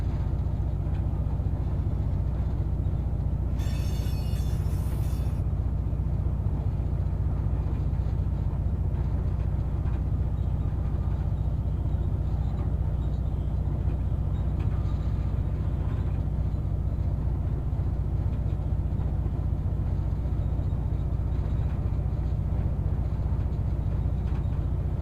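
A CSX freight train of empty coal cars rumbles on in the Run 8 simulator as a steady low drone. A brief high-pitched squeal cuts through near the start.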